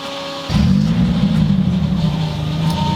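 A 515-horsepower rear-wheel-drive Honda Civic race car with a K-series engine fires up after a quiet moment, then settles into a loud, steady, close idle rumble that holds through to the end.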